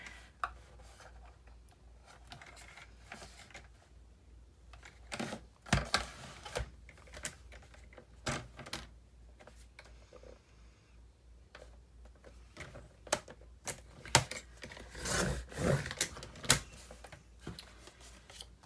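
Sharp cuts and shuffling paper handling from a paper cutter trimming the edge of a book page, close and fairly quiet, in scattered bursts with pauses between them.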